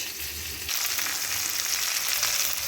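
Amla coated in a spice mix of salt, turmeric and chilli powder fries in a pan, giving a steady close sizzle that turns brighter and louder partway through as it is stirred.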